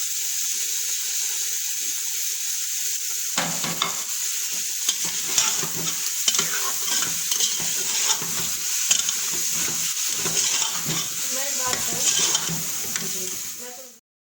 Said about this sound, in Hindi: अब मैं इसमें ऐड कर रही हूँ 2 आलू और 1 गाजर, जिनको मैंने